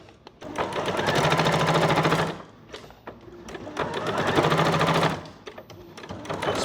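A sewing machine stitches fabric around a curve for a christening gown in two close, loud bursts of rapid mechanical whirring, separated by a short pause, with a brief third burst at the end.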